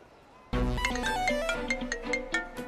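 A phone ringtone starts abruptly and plays a bright, repeating melodic pattern, loud and close, with no talking over it.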